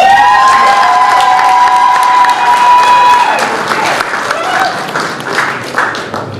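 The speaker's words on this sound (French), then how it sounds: "Est-ce que nous pouvons acclamer fortement?" A packed hall crowd at a Prime Minister's reception in Ottawa-Gatineau cheers and applauds loudly and steadily, with whoops and shouts layered over continuous clapping, and a few voices calling out.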